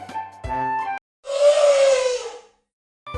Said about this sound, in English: It's a big, friendly elephant.